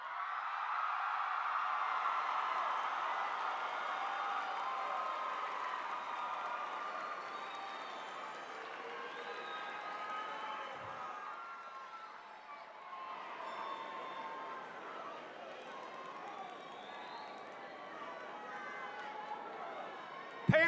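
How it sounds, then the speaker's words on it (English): High school graduates at a 2011 J.P. McCaskey commencement applaud their parents, a sustained wash of crowd clapping heard from a distance in a large hall, gradually thinning out over about twenty seconds. "give your parents a round of applause"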